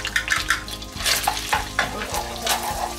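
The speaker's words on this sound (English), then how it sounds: "the butter is too hot. We're gonna add the garlic." Garlic frying in very hot butter in a wok, with a loud hiss and repeated stirring scrapes in an uneven rhythm and no talk.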